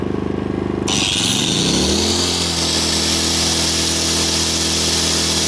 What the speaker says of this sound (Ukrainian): Тепер вимикаємо болгарочку.